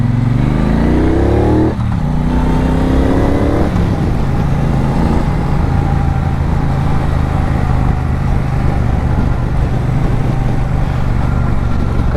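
A 2022 Triumph Bonneville Bobber engine heard loud and close while riding, rising through the gears in two quick pulls with a shift between them, then settling into a steady rumbling drone at cruising speed.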